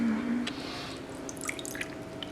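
Water for cold process soap making trickles and drips into a container close up, a faint steady liquid sound with small irregular splashes and no talking.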